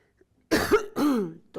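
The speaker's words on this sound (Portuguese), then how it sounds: "Tô com um pouquinho de tosse hoje, não estranhe." A teacher giving an online marketing class coughs twice in close succession, loud and raspy, with a brief third burst starting at the end.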